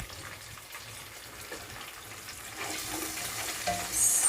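Green chillies and sliced large onions frying in a pan for mushroom biryani, a soft, steady sizzle that grows louder and hissier toward the end, with no talking.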